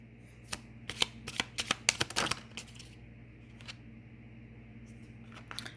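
Tarot cards shuffled and drawn by hand during a reading, a quick run of crisp flicking riffles bunching into a dense burst, then scattered soft card slides, close and clear with no talking.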